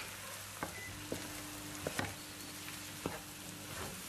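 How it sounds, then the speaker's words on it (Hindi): Karela (bitter gourd) sizzles gently in a pan with turmeric, coriander powder and chopped green chillies over high heat, a soft continuous frying crackle broken by a few sharp clicks of stirring. "इन सारे मसालों के साथ इसे अच्छे से भूनना है।"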